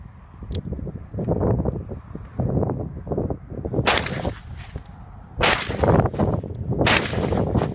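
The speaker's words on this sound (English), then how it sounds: "He's shooting the Herder's 158 grain truncated cone full metal jacket." Revolver shots with 158 grain truncated cone full metal jacket rounds at an outdoor range, several sharp loud reports over a busy, rumbling background.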